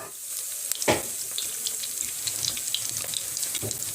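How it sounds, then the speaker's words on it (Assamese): Dough balls deep-frying in hot oil in an iron kadai give a steady close hiss. Scattered sharp pops and crackles sit on top, with no one talking. "এইখিনি মই এতিয়া গৰম তেলত ফ্ৰাই কৰি লম"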